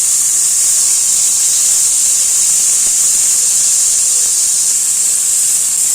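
Onion, tomato and ginger-garlic paste sauté in a hot pan with a loud, steady hiss of steam and sizzle that holds evenly throughout, with no talking.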